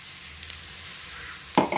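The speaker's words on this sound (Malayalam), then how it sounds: "ഈ അരപ്പിട്ടിട്ട് നല്ലതുപോലെ ഒന്ന് ചിക്കണം" A paste of coconut, onion and cumin fries quietly in a pan with a soft, steady sizzle, then a sudden loud scrape as it is stirred near the end.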